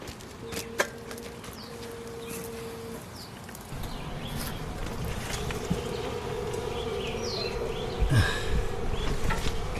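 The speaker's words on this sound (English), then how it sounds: "These bees have built what looks like a huge nest under this bath, right behind here." Many honey bees buzz steadily close by at a cavity nest under a bath, a dense droning hum with individual insects zipping past, growing slightly louder.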